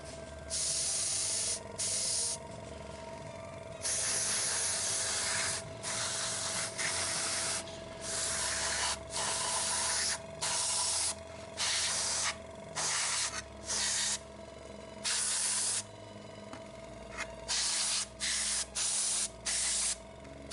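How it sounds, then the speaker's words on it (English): An airbrush sprays chipping medium onto a miniature in short, repeated hissing bursts. The bursts are close and fairly loud, with brief pauses between them. "I'm going to take some chipping medium, load it into the airbrush."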